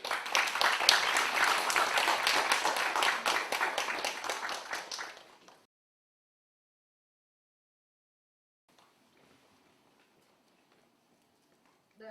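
Audience at a Seoul Children's Grand Park staff innovation meeting applauds steadily and loudly for about five seconds, then stops abruptly into near silence with faint rustling.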